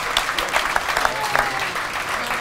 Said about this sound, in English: Big round of applause for JC, Megan, and Peter.